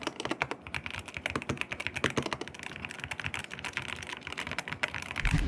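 Rapid typing on a mechanical keyboard, the Razer BlackWidow V3 TKL tenkeyless board, with dense, close, clicky keystrokes running continuously and a few heavier strokes near the end, no talking.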